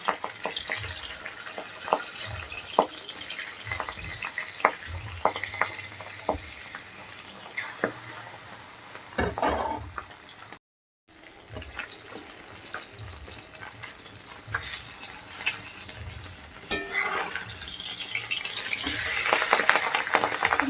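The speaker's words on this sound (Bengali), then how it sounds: "বাকি যে মাছগুলো আছে সেগুলোকে ভেজে নিচ্ছি" Pabda fish fry in hot oil in a pan for an eggplant pabda dish, giving a steady close sizzle with scattered clatter and spatter and a brief silent break midway.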